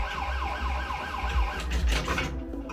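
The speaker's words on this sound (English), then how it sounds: "I hate that mode where it's sirens going off" A wailing siren sweeps up and down repeatedly over electronic game noise in a Bond-themed virtual pinball game, with bright jingles and effects toward the end.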